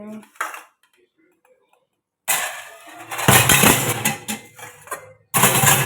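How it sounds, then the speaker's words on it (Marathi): Dishes, pots and pans being scrubbed and washed in a home kitchen after making tea, with repeated clattering and clinking of utensils coming in loud bursts near the mic, broken by a quiet pause early on. "ही सगळी भांडी घासायची जास्त नाही थोडीच आहेत"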